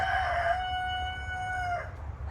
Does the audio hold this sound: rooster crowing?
yes